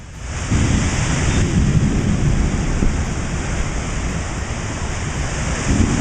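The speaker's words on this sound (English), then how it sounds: "Look at this storm!" A major thunderstorm in central Pennsylvania brings loud, continuous roaring of heavy rain and gusting wind, with low rumbling mixed in, close and unbroken for the whole stretch and no voices on top.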